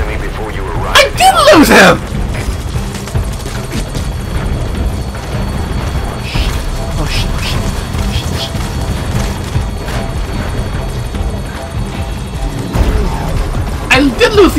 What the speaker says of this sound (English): the chopper's touching down